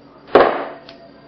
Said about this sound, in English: I'm going to hold it as I hit the pin in the rest of the way